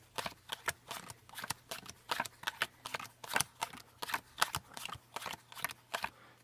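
Playing cards are dealt one by one into five piles of five during a mind-reading card trick, giving a series of soft, crisp snaps and flicks in a steady, quiet rhythm.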